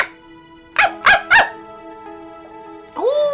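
A person imitates a dog barking, giving three quick, loud yaps in a row, followed after a pause by a brief rising whine-like call; no other sounds are heard.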